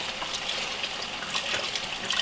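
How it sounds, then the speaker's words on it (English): Broth pouring into a pot of vegetable beef soup, a brief steady gush of liquid splashing close by with no voices. "just adding a little bit of broth"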